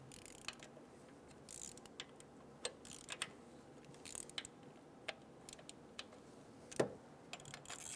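Ratchet working the 10mm high pressure fuel pump bolts loose on a 2011-2014 Hyundai Sonata, quiet scattered clicks and ticks coming in short back-and-forth bursts with no talking.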